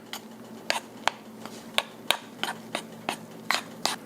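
A sauce for a steak and shallot demi-glace being stirred in a bowl, a regular series of sharp utensil clinks against the bowl, about ten strokes in a steady rhythm, close and fairly loud over a low hum.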